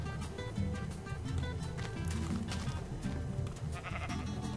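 Sheep in the Minecraft video game bleat repeatedly during a nighttime shearing scene, several overlapping calls over steady game sounds and background music at moderate loudness.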